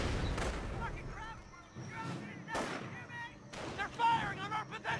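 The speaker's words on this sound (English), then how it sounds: "getting beaten up by this mortar fire and the sniper's shots" Mortar fire and sniper shots in a Company of Heroes real-time strategy battle, a steady mix of booms and sharp cracks at moderate level, with game voices and music woven in.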